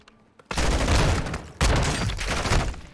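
Sustained automatic gunfire from the Modern Warfare II video game campaign, loud dense bursts with a brief break before another heavy volley, no talking over it.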